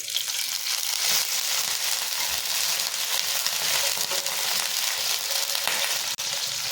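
Loud, continuous hiss and crackle as water hits hot tempering for khaman, sizzling steadily up close with a short drop near the end.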